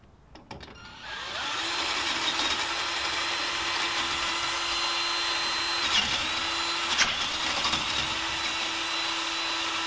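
A power drill with a half-inch bit bores steadily during a Brembo brake install on a third-generation LS1 Camaro. A sustained, fairly loud motor whine runs for several seconds, with a couple of brief clicks and no talking.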